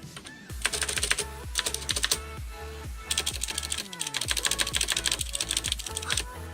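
Fast typing on a Gamdias P1 RGB mechanical keyboard with soft blue switches, close-up bursts of dense key clacks with short pauses between runs.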